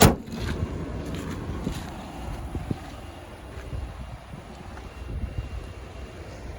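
A 2017 Ford F-150 Lariat with the FX4 off-road package and EcoBoost engine idles smoothly as a low, steady rumble, with wind buffeting the microphone and a louder thump at the start.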